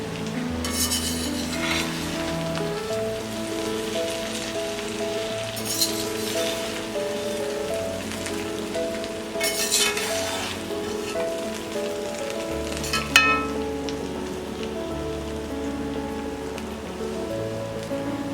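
Raw mango rice being stirred and mixed in a pan, a spoon scraping and clinking against the metal in steady repeated strokes over soft background music, with no talk.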